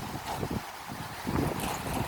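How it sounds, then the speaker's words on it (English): Gusty wind from Hurricane Delta in Metairie, Louisiana, roaring steadily with swelling gusts and rumbling buffeting against the microphone, loud and continuous throughout, no voices. "Some easy 3-mile-an-hour wind gust."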